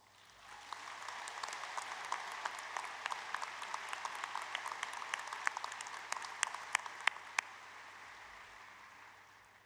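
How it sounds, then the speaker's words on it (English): At a Drexel University College of Arts and Sciences commencement, a large crowd applauds faculty and staff, a steady, moderately distant wash of many hands with scattered sharp claps standing out before it tapers off. "Please give them a round of applause."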